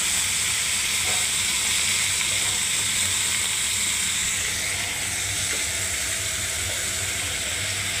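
Sliced onion and potato drop into hot oil for a Bengali fry, giving a steady, loud, bright sizzling hiss that holds evenly throughout with no talk.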